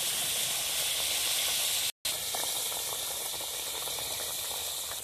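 Pomfret fish dropped into a boiling curry, giving a steady, loud hiss and sizzle that fills the clip, with a short gap partway through and faint bubbling crackle underneath.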